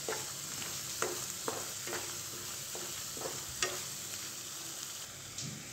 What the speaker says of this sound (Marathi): चांगलं परतून घ्यायचं आता हे.